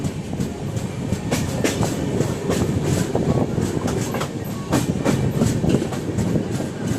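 Passenger train on the Karimnagar to Bhopal run rumbling steadily along the track, with rhythmic wheel clatter over rail joints and a continuous loud roar throughout, no talk.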